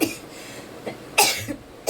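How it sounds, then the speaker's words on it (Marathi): A woman coughs several times, short harsh bursts spaced out with brief pauses, close and loud with no talking. "रोजचा खाऊन खोकला येतोय बघा."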